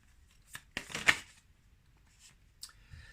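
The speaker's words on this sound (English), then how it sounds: "Let's pull some tarot." Tarot cards are shuffled in a few quick, close riffling bursts, crisp papery flutters separated by short quiet gaps, soft overall and without talk.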